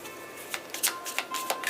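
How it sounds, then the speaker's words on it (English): Tarot cards being shuffled by hand in a few quick bursts, crisp papery riffles and flicks close to the microphone over a quiet background, with no talking. "I'm going to do a quick shuffle."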